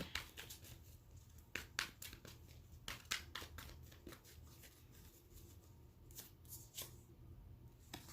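Tarot cards being shuffled by hand, a series of quiet riffling and flicking bursts at an irregular rhythm over a faint low hum, close up and soft, with no talking.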